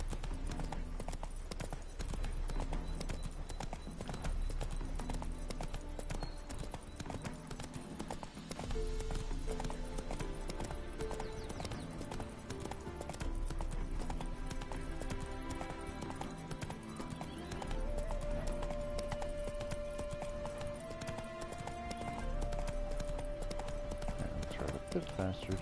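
The horse Roach's hooves clip-clop steadily in The Witcher 3 video game, a rhythmic galloping over a game music bed with a voice talking throughout.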